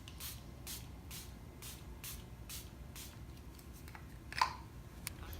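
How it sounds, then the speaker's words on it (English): Milani Make It Last setting spray misted over the face, a series of short, soft pump spritzes in a steady rhythm, quiet and close, with a small click near the end. "I'm just going to take some Milani Make It Last and do a light spritz all over."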